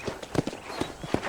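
Horse hooves clopping in Red Dead Redemption, a few quick, moderately loud hoofbeats at an uneven trot, with no one speaking over them.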